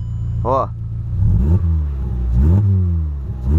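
A Volkswagen Polo fitted with a 4-inch exhaust revs in a few rising bursts, its deep, booming engine note rumbling loud and close while someone talks over it.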